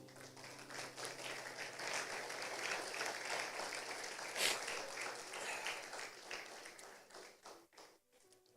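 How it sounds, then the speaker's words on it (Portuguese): A church congregation applauds together through a Portuguese-language service, a dense, steady wash of clapping that holds for about eight seconds before thinning out at the end. "aplauda ao Senhor."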